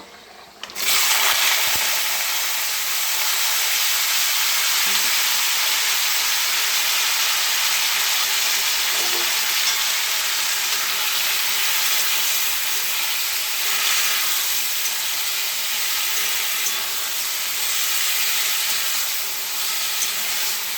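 Chopped beans, potato and eggplant hit a hot oiled pan and sizzle loudly and steadily, a bright continuous frying hiss with faint stirring scrapes underneath.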